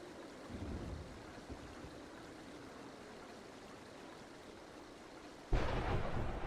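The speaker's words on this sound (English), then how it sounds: "it's raining outside." Rain falling outdoors with rumbling thunder, a quiet, distant wash with low rolls early on, then a sudden louder surge of downpour near the end; no one speaks.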